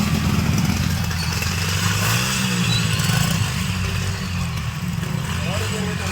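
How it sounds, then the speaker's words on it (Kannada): Several motorcycles revving loudly and harshly along a road in Mangaluru, with rising engine notes and clatter close by, heard under a narrator's voice. "ರೀಲ್ಸ್ ಹುಚ್ಚಿಗೆ ಕರ್ಕಶ ಶಬ್ದ ಮಾಡ್ತಾ ಬೈಕ್ ಓಡಾಡಿಸ್ತಿರೋದು ಕಿರಿಕಿರಿಯಾಗಿದೆ"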